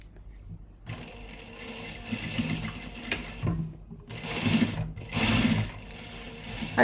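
A sewing machine stitches a closing seam. The motor whirs in loud bursts that start and stop, with brief pauses between runs of stitching and no talking.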